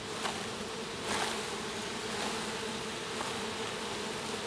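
A dense, steady buzz of many honey bees at an open hive fills the air, close and constant, with slight swells in intensity.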